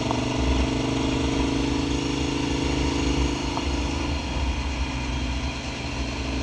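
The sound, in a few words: KTM 1290 Super Adventure motorcycle engine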